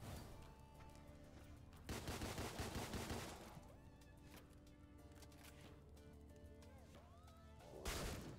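Bursts of 9mm pistol fire in the video game Deadbolt, with a loud cluster of shots around the second and third seconds and another near the end, mixed with game music and effects.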